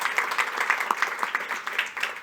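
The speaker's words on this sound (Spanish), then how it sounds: "Un aplauso para Sandra," Audience applause at a Chilean economic forum on the silver economy, a dense steady wash of many hands clapping at moderate distance, continuing evenly without a break.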